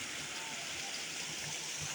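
Three streams meeting at a scenic spot, a continuous soft rushing and gurgling of flowing water, even and unbroken, heard alone at low volume.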